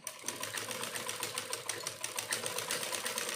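Close and steady, a sewing machine rattles along a straight fabric strip, its rapid needle ticking evenly throughout with no pause.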